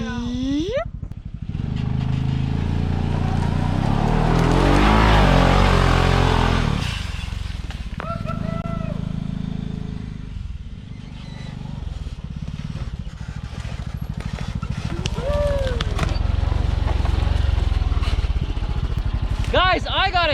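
A turbocharged Honda Pioneer 500 UTV on 32-inch tires climbs a steep hill, its engine loud and straining at first, then easing as it crests, with voices and whoops heard over it.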